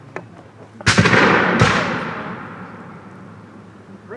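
A small cannon fires at an outdoor historical village event, two sharp booms in quick succession followed by a long rolling echo that fades away over a few seconds, outdoors and fairly near.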